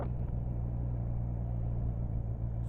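Steady low engine rumble of a motorcycle idling and running down through the gears, throttle off and clutch in, with a constant close drone and no clear revving.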